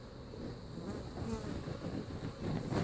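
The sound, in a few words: honey bees buzzing in a top-bar hive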